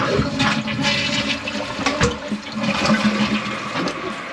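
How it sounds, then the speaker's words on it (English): A toilet flushes in a house after frozen pipes, a loud continuous rush and swirl of water running throughout without pause. "Go ahead and flush the toilet."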